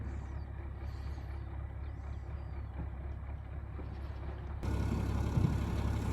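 An old diesel tractor rumbles past on a beach, a steady low engine drone that swells louder near the end as it draws close, with no voices.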